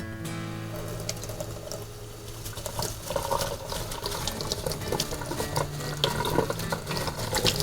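Water runs steadily from a kitchen sink tap into a strainer holding turkey gizzard stones, with rattling and splashing as the stones are rinsed and pushed around, close and continuous.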